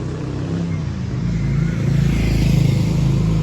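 A scooter ridden by a learner on her third day of training hums steadily nearby, its engine growing a little louder toward the end.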